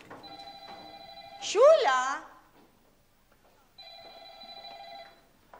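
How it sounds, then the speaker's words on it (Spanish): A house telephone rings unanswered in two long bursts separated by a pause, while a voice shouts loudly between the rings. "¿Será posible que nadie atienda nunca el teléfono en esta casa?"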